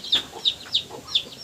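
Chickens cluck in short, repeated bursts about every third of a second, fairly close and moderately loud, with no one speaking.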